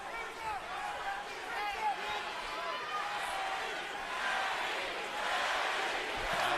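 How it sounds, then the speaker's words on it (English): A large arena crowd at a Manny Pacquiao versus Timothy Bradley boxing fight roars and chants in a sustained, dense wall of voices that swells slightly toward the end. "Now the crowd begins to chant Manny, Manny."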